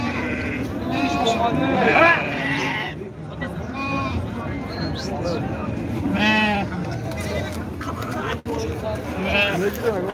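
Sheep bleat repeatedly at a busy livestock market in Khuroson, their wavering calls rising over a steady hubbub of crowd chatter and nearby voices.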